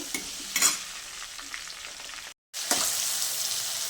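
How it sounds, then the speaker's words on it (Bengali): Potato pieces frying in hot oil for a Bengali chicken and pea curry, giving a steady close sizzle with a few louder spatters and stirring scrapes, cut by a brief silent gap before the frying resumes. "প্রথমে আমি আলুটাকে ভেজে নেব।"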